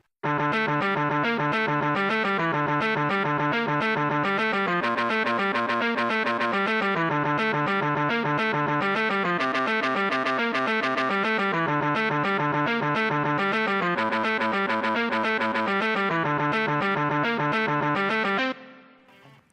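A distorted electric guitar plays a harmony line through effects, a dense, sustained stream of picked notes running nonstop for about eighteen seconds before it cuts off abruptly.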